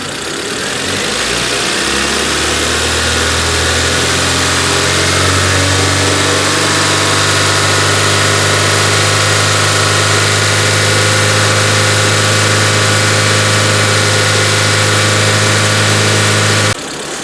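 A Proton Wira engine, fitted with new fuel injectors, starts and settles into a steady, loud idle with a low rumbling hum and constant vibration, no voices.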